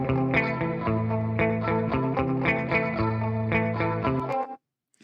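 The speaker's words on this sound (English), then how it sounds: "now like I brought the delay up" A guitar-like octave-up pitched line runs through a delay effect set long, so repeating echoes smear each note into a dense, layered wash; the sustained processed tone plays steadily and alone before cutting off abruptly near the end.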